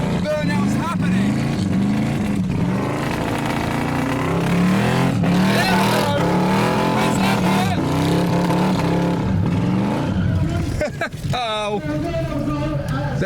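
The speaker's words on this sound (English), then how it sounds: "Line lock initiated, engine warning light showing, burnout's happening." An MGB classic car performs a line-lock burnout at a drifting show in front of crowds, its engine revving loud and close with rising and falling pitch. Someone talks over the engine throughout.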